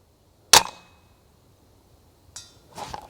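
An airsoft gun with a bucking still wearing in fires one sharp crack, followed about two seconds later by two quicker impact snaps as the shots hit a target, with quiet gaps between them.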